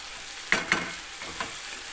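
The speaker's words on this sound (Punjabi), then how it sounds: "ਹੁਣ ਇਹਨਾਂ ਨੂੰ ਟਮਾਟਰਾਂ ਨੂੰ ਭੁੰਨਾਂਗੇ ਥੋੜਾ ਟਾਈਮ" Tomatoes added to fried onions for baingan bharta crackle softly in a pan, with a few brief stirring scrapes standing out over a low steady sizzle, no voices.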